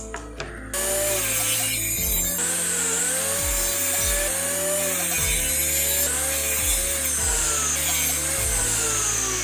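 A piece of scrap rubberwood cut on a power saw into four lengths, a loud continuous whine with repeated dips in pitch as the blade bites into the wood, no talking.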